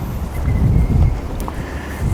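Wind gusting across an outdoor tow yard on a windy day, a loud, rumbling buffeting against the microphone that swells and eases over a couple of seconds.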